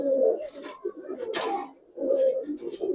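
Silver and jabra pigeons coo in low, throaty phrases that repeat close by, with soft rustling between the coos and no talking.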